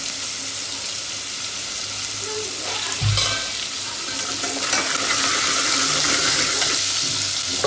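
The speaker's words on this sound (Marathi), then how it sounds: "तर मी आता हा कांदा भाजून घेते." Onion fries in a pan with a loud, steady broadband sizzle at close range, punctuated by a brief thump of stirring partway through.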